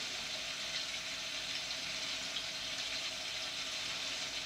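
Water pours steadily into the reservoir of a PC water cooling loop in a gaming PC build, a continuous trickling, gurgling stream heard close up without speech.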